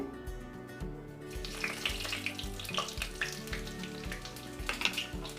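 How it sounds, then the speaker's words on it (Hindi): Cumin seeds dropped into hot mustard oil for a potato sabzi start crackling and popping after a quiet second, a busy close sizzle sitting over steady background music. "अब सबसे पहले हम इसमें ज़ीरा डाल देंगे"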